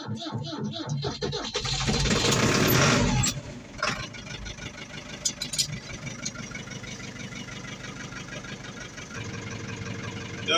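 A Ford 7700 tractor engine is cranked in a workshop, with a loud grinding burst that then settles into a quieter, uneven idle with knocking ticks and scattered clatter.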